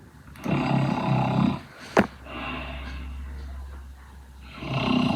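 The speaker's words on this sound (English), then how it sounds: "this might sound like the worst anime snoring effect of all time" An exaggerated anime-style cartoon snoring effect: a drawn-out rough, snorting inhale, a brief sharp snort, then a softer wheezing exhale before the next loud snore begins, standing alone with no talk.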